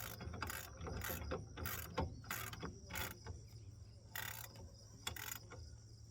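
Ratcheting wrench clicks while tightening brake bolts on an 87 Trans Am fitted with LS1 brakes, several quick bursts of close mechanical ratchet clatter with short pauses between.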